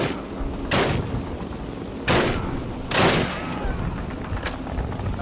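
Enemy gunfire in the Call of Duty video game, with loud sharp bursts of rifle and machine-gun fire cracking at irregular intervals over a continuous battle rumble, no talk.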